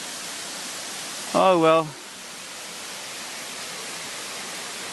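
Waterfall tumbling down over three successive cascades, heard as a steady, broad rushing wash that runs unbroken through the whole stretch, with a brief spoken remark near the start laid over it.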